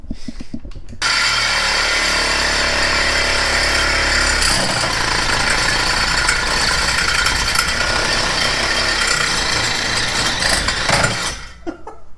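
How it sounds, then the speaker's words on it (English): A loud power tool grinds continuously through a Ford Focus ST's metal exhaust pipe for about ten seconds, a harsh steady buzz with shifting pitch, then winds down near the end. "let's start cutting some exhaust"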